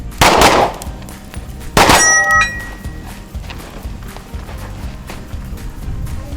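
Pistol shots striking steel targets on an outdoor range, two loud sharp bangs with ringing metallic clangs, the second leaving a humming ring that decays, followed by quieter ambience.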